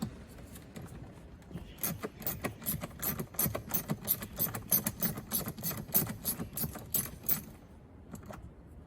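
A screw being backed out of Peugeot 207 interior trim gives a close run of rapid, uneven metallic clicks and rattles lasting most of the clip, with no talking.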